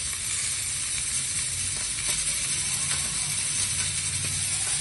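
Oil poured into a hot pan for frying pony fish and mackerel gives a steady, loud sizzle and hiss that holds evenly from start to finish, with faint scraping underneath.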